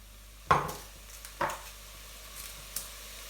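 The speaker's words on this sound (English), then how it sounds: "then you can put your onions straight back in. Just mix those in" Onions being stirred in a pan on an electric cooker, with a few separate scraping, sizzling pushes spaced about a second apart over a soft background fry and no talking.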